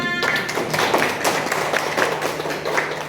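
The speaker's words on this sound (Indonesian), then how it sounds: "beri tepuk tangan untuk teman-temannya" A small group in a classroom claps for a few seconds, a loose patter of hand claps without cheering.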